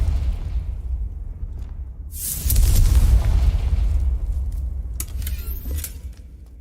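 A Confringo fire spell bursts in the Hogwarts Legacy video game, a loud, close boom with a crackling hiss that swells and then fades, following a low rumbling background.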